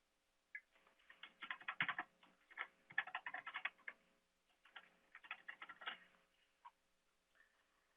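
Someone types a username and password on a computer keyboard, two quick bursts of close, crisp key clicks separated by a short pause, with no voices.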